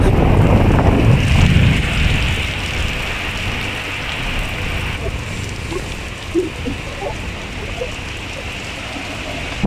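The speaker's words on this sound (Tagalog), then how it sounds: "Lakas ng ulan." Heavy rain pours down with gusting wind on a dark Friday morning in Abu Dhabi, a dense steady wash that is loudest at first and then settles into constant patter with a few distinct drops.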